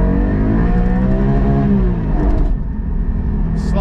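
A Porsche 718 Cayman GT4 engine howls at high revs, bouncing off the limiter on an icy road. The sustained, loud, close tone wavers and then eases slightly.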